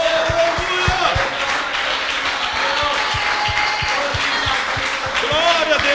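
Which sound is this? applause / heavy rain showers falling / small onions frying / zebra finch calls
applause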